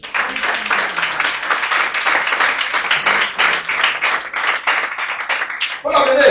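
A church congregation applauds the Lord during a worship service: dense, sustained clapping from many hands fills the whole stretch, mixed with raised voices, and swells into a final burst at the end.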